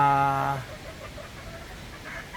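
A Golden Boy breeder chicken lets out one loud, close, drawn-out cluck, followed by quieter scattered clucks and soft farmyard noise.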